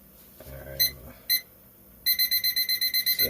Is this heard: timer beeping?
yes